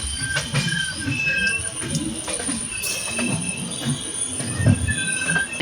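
A passenger train in Rajasthan heard from inside, with steady wheel rumble and clatter, rhythmic rail knocks and sustained high squealing tones, loud and close, with a few bird-like chirps and faint voices in the background.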